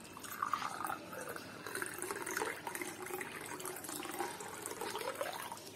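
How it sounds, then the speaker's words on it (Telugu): Water poured into a glass holding a candle, a soft continuous splashing trickle at moderate distance with a gurgling fill. "సో మనం వాటర్ పోద్దాం."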